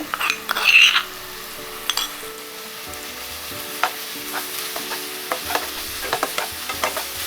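Crushed ginger, garlic, fennel, cloves, cardamom and cinnamon sizzle in a hot pan for vada curry, with repeated spoon scrapes and clinks against the metal, close and fairly loud.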